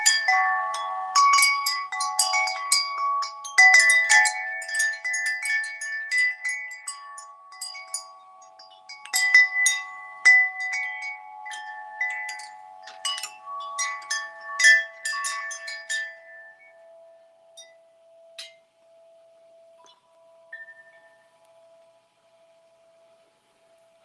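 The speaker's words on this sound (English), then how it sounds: "Here, I'll show you the wind chime I got close to me." Wind chime at an outdoor bushcraft camp after dark, close by, ringing in scattered bright clusters of metallic tones that thin out and fade to a single lingering ring.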